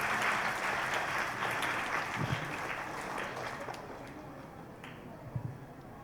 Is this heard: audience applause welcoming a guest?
yes